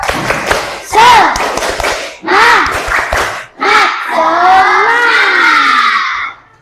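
A class of students does a rhythmic spirit clap in a classroom, with sharp bursts of unison clapping alternating with loud group chanting and ending in a long shout, close and energetic.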